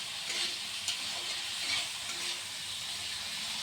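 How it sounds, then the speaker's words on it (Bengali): Foli fish stirred and frying in a pan, a steady hissing sizzle with brief scraping bursts from stirring, close and continuous with no voices. "দেখুন ভালো করে আমি নাড়াচাড়া করে একটু ভাজা ভাজা করে নিলাম"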